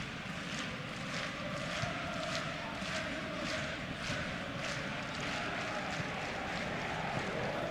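A stadium crowd in a football video game roars steadily, a distant, continuous swell of massed voices with rhythmic chanting pulses, moderately faint throughout.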